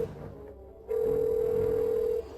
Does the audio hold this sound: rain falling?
no